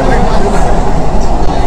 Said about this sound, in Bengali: তো খুব দ্রুত গতির সঙ্গে কিন্তু ট্রেন এগিয়ে যাচ্ছে,